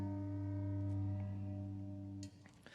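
A large, low-pitched cast aluminum handbell weighing about five pounds rings with a clean, steady hum and few overtones, then is abruptly damped to silence.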